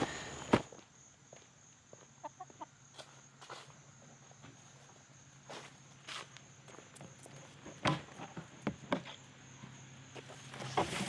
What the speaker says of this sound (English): So I did leave an extensive amount of chicken activity here.